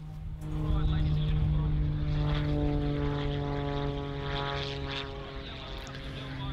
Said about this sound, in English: Paul Bennett flying that plane, and I've done my research, a Wolf Pitts Pro, which is a custom plane that he's put together